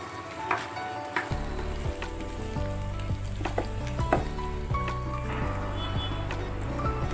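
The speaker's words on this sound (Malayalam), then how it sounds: "സവാള നല്ലോണം നമുക്കൊന്ന് വഴറ്റിയെടുക്കാം." Sliced onions sauté with fenugreek in a hot pan for a tomato roast, giving a steady sizzle with a few scraping stirs over a low, constant background hum. No one speaks.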